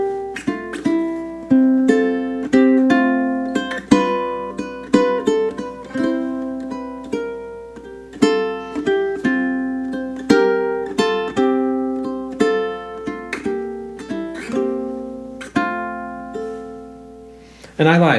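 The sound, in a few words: classical ukulele playing Andante No. 2 etude measures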